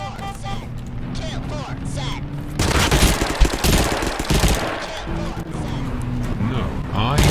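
Rapid automatic gunfire in the Totally Accurate Battlegrounds video game, a dense loud burst over steady game background noise, with someone talking over it.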